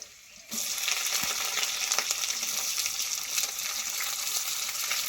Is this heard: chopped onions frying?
yes